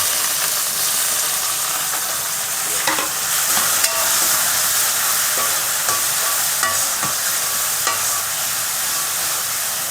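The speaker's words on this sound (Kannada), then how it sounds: "ಈರುಳ್ಳಿ ಮತ್ತು ಟೊಮೊಟೊ ಎರಡೂ ಕೂಡ ಚೆನ್ನಾಗಿ ಫ್ರೈ ಆಗಬೇಕು." Onion and tomato frying in a pan for a hotel-style mushroom gravy, a steady loud sizzle throughout with occasional clinks of stirring.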